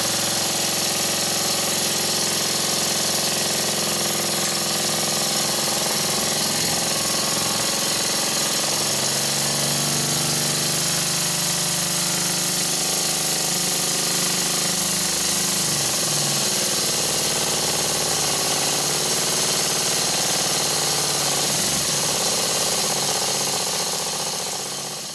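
Stuart 10V model steam engine running on compressed air after a partial rebuild, with slight gasket leaks: a continuous loud, close mechanical chugging and hissing that stays steady throughout.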